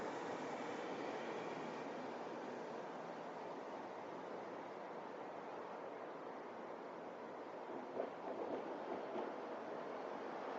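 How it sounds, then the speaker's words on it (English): A car crossing railroad tracks roughly 50 yards away, heard outdoors at night as a steady, distant broadband rumble and wash, with a brief slightly louder thump near the end. "That was a car going over the railroad tracks that put the vibration in the scope"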